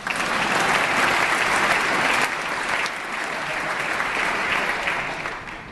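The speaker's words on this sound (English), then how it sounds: "You can clap." Steady applause fills a legislative assembly chamber, a loud sustained clapping crowd holding for several seconds before easing slightly toward the end.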